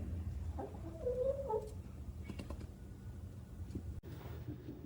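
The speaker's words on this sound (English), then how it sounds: "Look, Chicken came to see what we're doing today." A chicken gives a few soft, mid-distance clucks near the start of a quiet workshop scene with steady low background hum and occasional faint handling noises.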